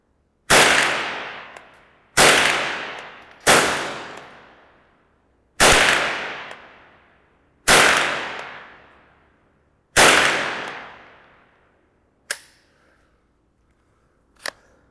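Six sharp, loud Remington Nylon 66 rifle shots fired from the shoulder at 50 meters, each ringing briefly away at an uneven pace, followed by two smaller clacks near the end.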